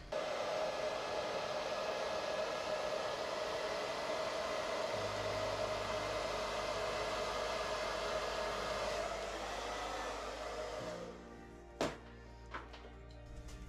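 Air blows down onto poured acrylic paint with a steady, close hiss like a hair dryer. It stops near the end, leaving a few faint clicks and handling noises.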